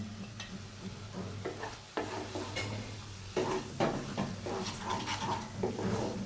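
Ground chili, turmeric, coriander and salt frying in a pan for a vegetarian mock fish curry, with a sustained sizzle broken by repeated spatula scrapes and clinks against the pan.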